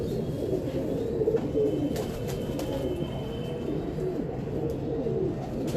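Pigeons coo steadily in a low, soft, continuous murmur from what sounds like a flock at close range, with no voices over them.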